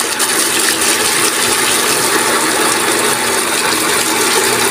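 A shallow water pump drawing water up from a well runs with a loud, continuous mechanical rattle and a rushing water noise, steady and close throughout, with no voices.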